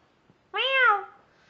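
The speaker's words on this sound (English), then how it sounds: "Devil cat. Meow." A single cat meow, clear and close, rising then falling, lasting about half a second against a quiet background.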